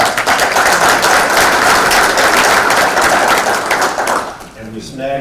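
A meeting audience gives a new member a round of applause, loud steady clapping that fades out at the end as a voice begins to speak.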